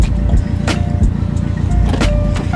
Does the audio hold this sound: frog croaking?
no